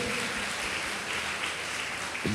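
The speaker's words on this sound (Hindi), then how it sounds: "ताली बजा के परमेश्वर को धन्यवाद दे।" A church congregation claps together during a Sunday service, a steady, dense wash of applause filling the room from start to finish, with no talk over it.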